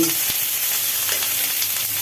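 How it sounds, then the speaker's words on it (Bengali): Pointed gourd and potato pieces frying in hot oil in a home kitchen, a loud, steady crackling sizzle close by with a brief stirring clatter near the start, no talking. "এগুলো এখন সব ভাজা হবে পটল আলু"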